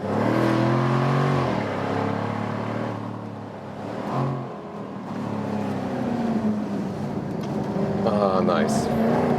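A Jaguar F-Type V8 P450 cabriolet pulls out of a corner, its V8 engine rising loudly in pitch as it accelerates, easing briefly and then climbing again toward the end.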